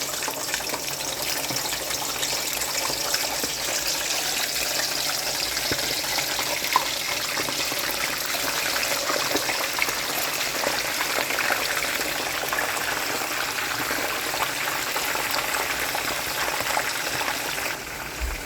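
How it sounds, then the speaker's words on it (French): Fish frying in hot oil, a loud, continuous hiss and crackle of sizzling that holds steady throughout with no talk over it. "Maintenant, c'est le poisson qui va passer à l'huile."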